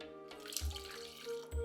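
Water poured from a bowl into a cooking mixture, a faint brief splash and trickle with gentle liquid sounds, close by and without talk.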